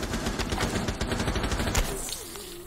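Rapid gunfire in Rainbow Six Siege, a loud steady stream of shots for about two seconds that stops abruptly and leaves a faint tail.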